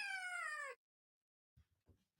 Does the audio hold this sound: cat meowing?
yes